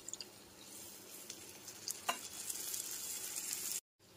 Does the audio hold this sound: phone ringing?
no